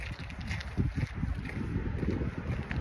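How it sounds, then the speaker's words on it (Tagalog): Wind gusts buffet the microphone outdoors on a slippery road with melting snow, making a low, uneven rumbling roar that stays close and fairly loud throughout. "Ang hangin"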